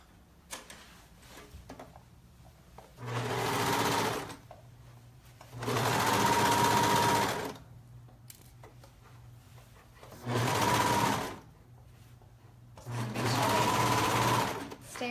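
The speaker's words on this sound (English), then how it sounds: "I'm just gonna serge all the way around." A serger overlocks the seam around a pair of knit joggers, running in four separate bursts of steady fast whirring, each a second or two long, separated by quieter pauses with low background sound.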